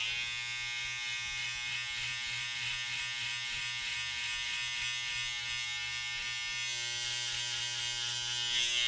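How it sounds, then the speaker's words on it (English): An electric beard clipper trims along the neckline, its steady close-up buzz running unbroken and evenly loud throughout with no speech. "So I have to angle my clipper going sideways to cut the hair as low as"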